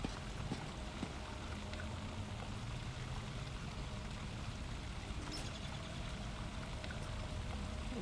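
A water feature splashes in the video game Elder Scrolls Online, a quiet, steady patter like falling water that runs evenly without pauses.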